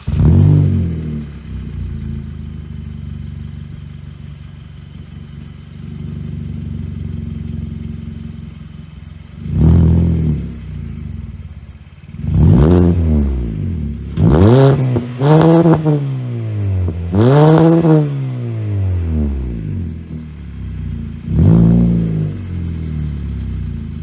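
A 2019 Kia Optima with its muffler removed, idling loudly before a series of sharp throttle blips and longer revs that climb and fall, each burst rasping and close, with no talk.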